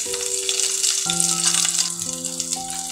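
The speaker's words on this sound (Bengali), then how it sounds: "রসুনগুলো একটু লাল লাল করে ভেজে নিলাম। এখন দিয়ে দেব চিংড়ি মাছ।" Garlic and prawns frying in a pan, a steady bright sizzle under a backdrop of sustained musical tones, with no speaking.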